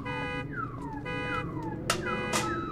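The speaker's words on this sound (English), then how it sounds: "I'm setting off all the car alarms just by standing here." Several car alarms in the video game Husk wail with repeating falling sirens and sharp chirps, steady and fairly loud over a continuous hum, with no talking.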